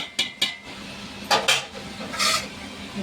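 A metal lid is set onto a pot of boti curry cooking with tomatoes, several sharp clinks and scrapes of metal on metal close by, then a softer rubbing clatter, with no talking.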